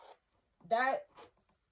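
A metal zipper on a pocket of thrifted shorts is pulled open in one short rasping stroke, close and quiet, followed by a fainter second scrape, with a bit of talking around it.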